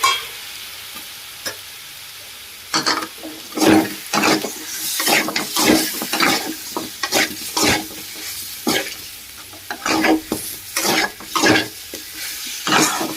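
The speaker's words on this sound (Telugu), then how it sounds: "ఈ విధంగా కలుపుకోవాలని, బాగా కలిసిపోయే విధంగా కలుపుకోవాలి" Hotel-style chicken roast being stirred with soy sauce in a hot pan, a spatula scraping in rhythmic strokes over a steady sizzle, close and loud with no talking.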